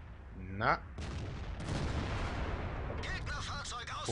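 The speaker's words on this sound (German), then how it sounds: "die Kanone ist eigentlich recht präzise" A tank cannon booms in World of Tanks, the German Rhm.-Borsig Waffenträger, followed by a sustained rushing, rumbling tail and further sharp reports later, with a brief voice-like sound at the start.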